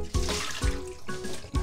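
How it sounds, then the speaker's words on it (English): Cold tap water runs and splashes over freshly boiled horsetail shoots being rinsed in a kitchen sink, a steady close wash broken by a few heavier splashing pulses. "I'm just gonna quickly wash it again with cold water."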